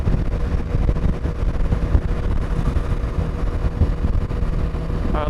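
Royal Enfield Himalayan 450 single-cylinder motorcycle engine humming steadily at about 4500 rpm in sixth gear around 60 mph, an even low drone with wind noise from riding.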